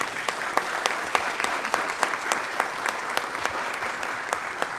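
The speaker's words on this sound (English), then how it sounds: "give them a round of applause" An indoor audience claps steadily, a dense patter of many hands with a few sharper individual claps standing out, fairly close and sustained.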